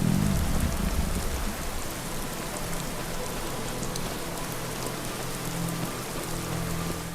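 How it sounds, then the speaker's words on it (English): Steady rain falls in Skyrim's Reach region on an evening, a continuous even hiss of drops on surfaces with a low rumble underneath, no voices. "No, but it is raining and it is evening."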